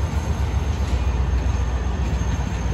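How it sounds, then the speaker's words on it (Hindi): Millat Express 17 Up, hauled by locomotive 8222, pulls out of Malir railway station in the evening, a loud continuous low rumble of engine and rolling wheels filling the air without pause. "मली रेलवे स्टेशन से रवाना हो रही है 17 अप 82-22 की क़यादत में"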